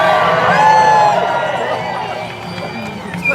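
A crowd at a Freedom Convoy rally in Victoria, BC cheers and whoops loudly, then the noise gradually fades over a few seconds.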